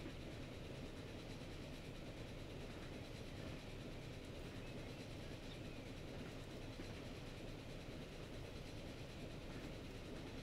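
A train in the Transport Fever game approaching from a distance on a branch line, a faint continuous rumble with soft rhythmic clickety-clack of wheels, steady throughout with no voices.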